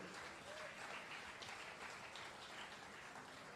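Sustained applause from an audience at a jazz celebration, a dense steady patter of many hands clapping at moderate level throughout.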